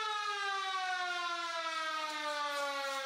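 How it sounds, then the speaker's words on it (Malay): A fire station emergency siren wails continuously at a fire and rescue station, one steady tone sliding slowly downward in pitch, sounding moderately distant and alone with no voices. "siren kecemasan bergema"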